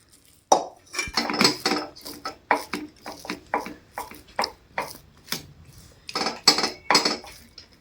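Vegetable chop filling is scooped from a pan onto a plate, giving a quick run of sharp metallic scrapes, clinks and taps in an irregular rhythm, close and clear.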